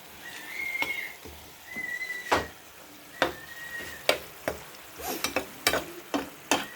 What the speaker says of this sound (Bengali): ইলিশ ঢেলে দিয়ে একটু নাড়াচাড়া করতে হবে।